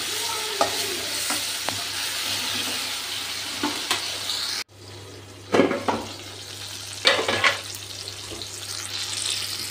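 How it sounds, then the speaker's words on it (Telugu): Spatula stirs fried tomatoes and onions in a home kitchen pan over a steady sizzle, with several scraping strokes and a brief pause midway. "ఇంకా మొత్తం మిక్స్ చేస్తున్నాను"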